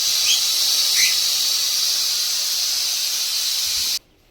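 Steady, loud hiss of steam escaping from a pressure cooker's vent after cooking a wild leafy vegetable, holding constant for about four seconds before cutting off abruptly.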